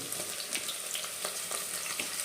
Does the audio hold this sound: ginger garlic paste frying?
yes